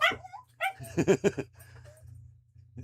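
A dog gives a quick run of close, clear barks and yips with short whimpering sounds between them, and a faint hum runs underneath.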